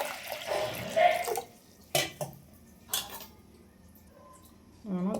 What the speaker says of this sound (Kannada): ಕುಕ್ಕರ್ಗೆ ನೀರು ಹಾಕ್ತೀನಿ ನೋಡಿ